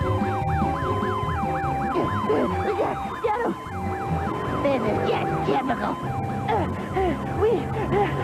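Cartoon emergency sirens wail in a steady rising-and-falling sweep through a lively animated fire-rescue chase after runaway balloons, loud and continuous, with music and excited voices layered over them.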